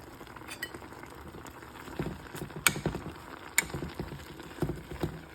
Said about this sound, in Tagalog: ihalo ko na rin ang malunggay at saka itong sibuyas